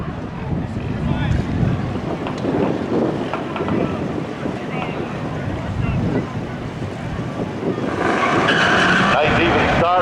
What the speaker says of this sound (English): Nice even start for the 2 of them.